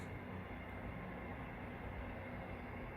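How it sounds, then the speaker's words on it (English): A train rumbles steadily in the background, a continuous low roar of rolling wheels on rails with no pauses. "That's a train in the background."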